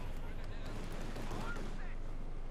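A Soviet air force strafing run in Company of Heroes 2 as a dense, continuous roar of rapid gunfire and explosions, loud and sustained throughout with a rumbling low end, a voice talking over it.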